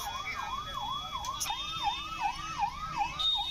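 Fire brigade engines at a blaze in the Katghar area of Moradabad, Uttar Pradesh, sound a siren that wails up and down in steady repeated cycles over a constant background rumble.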